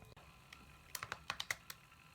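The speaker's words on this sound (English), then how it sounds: "Listen to the keyboard." A run of crisp keystrokes on the keyboard of an IBM ThinkPad 365XD laptop, around eight quiet clicks spaced irregularly, close to the mic in an otherwise quiet room.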